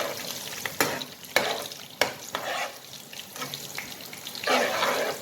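Cumin (jeera) seeds and cinnamon frying in a pan for a Punjabi-style mixed dhal, stirred with a few sharp scraping strokes over a soft, steady sizzle, fairly close, with no talking.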